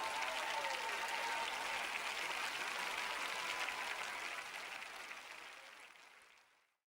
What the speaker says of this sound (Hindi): चलो तो अब जोर से ताली बजाओ